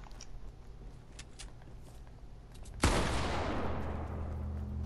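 Fortnite gunfire, a single loud, close report from a bolt-action rifle, cracks out once and decays into a lingering rumble over quiet game ambience with no talking.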